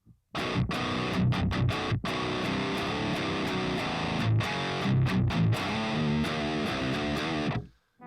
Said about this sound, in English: now I'm gonna go over to, let's see, a Marshall JVM sound, which sounds like this.